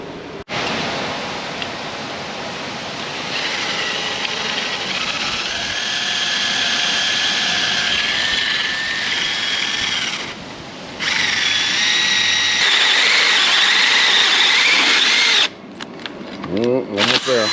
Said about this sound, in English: we'll drill a hole with it, hopefully with this hole saw